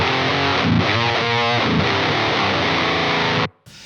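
Heavily distorted electric guitar with a bright, buzzing Swedish death metal chainsaw tone, played as loud sustained riffing with chugging chord changes, then cutting off abruptly into near silence.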